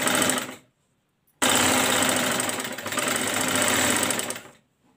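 Sewing machine stitching a strip around the curve of a baby frock with raglan sleeves, running in two bursts: a brief run, a pause of about a second, then a longer steady whirring run before stopping.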